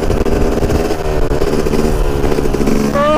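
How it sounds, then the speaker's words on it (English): A street-legal dirt bike engine revs hard during wheelies, a loud, close, continuous roar with rising and falling pitch and a sharp climb near the end, no talking. "Some more wheelies for you guys."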